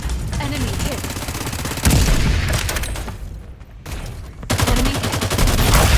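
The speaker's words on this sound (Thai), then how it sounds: "แล้วเหมือนเพื่อนเราจะโดนยิงอยู่ข้างล่าง" Rapid bursts of automatic gunfire ring out in the battle game Farlight 84. The shooting is loud and close, with a short lull midway before heavy firing resumes.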